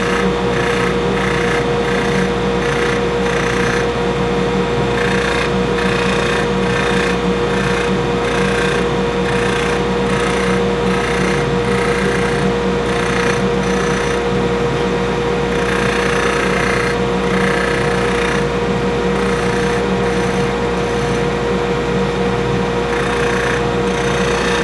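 A carbide tool cuts a metal ring spinning on a woodturning lathe, giving a steady loud scraping whir over the lathe's constant motor hum, with rhythmic rasping pulses and no talking.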